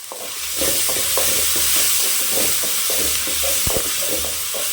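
Onions and tomatoes with rock salt sauté in a pan for a gongura chutney: a loud, close sizzle with repeated stirring scrapes and clacks of the spoon against the pan.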